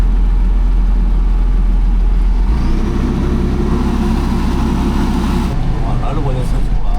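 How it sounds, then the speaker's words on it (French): A new farm machine driven by a tractor starts up for its first trial. A loud, close engine drone runs throughout, thickening and growing rougher partway through as the machine engages. "on va démarrer la machine, premier essai"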